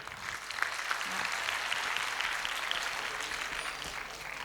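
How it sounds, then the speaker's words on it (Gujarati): Steady, dense clapping from an audience at a talk or seminar, sustained throughout at moderate volume without pause. "જોરદાર તાળીઓ"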